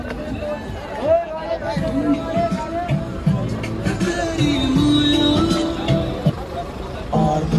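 A dense crowd of people at Amarkantak temple fills the air with steady babble and bustle, while a nearby voice talks over the murmur.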